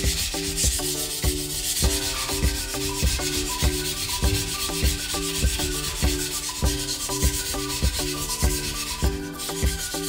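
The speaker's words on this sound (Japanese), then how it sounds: "刃を研いでるときはこういう音で、ちょっと刃先を少し縦気味で研ぐとこういう音に変わる。" A factory-edged yanagiba knife scrapes steadily across a whetstone in rhythmic back-and-forth strokes, gritty and close, with no voices.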